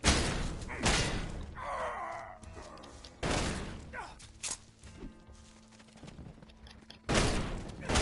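Enemy gunfire in the video game Elex 2, loud bursts of shots at the start and again midway and at the end, with thuds, creaks and clatter in between, and no talking.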